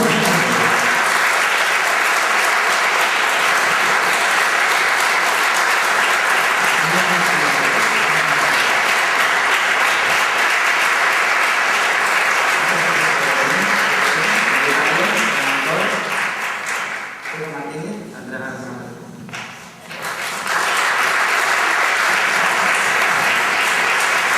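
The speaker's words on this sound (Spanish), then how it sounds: "Un aplauso." Sustained applause from a film festival gala audience in Asturias greeting Juan José Otegi on stage, loud and steady for about seventeen seconds, then dipping briefly before swelling again.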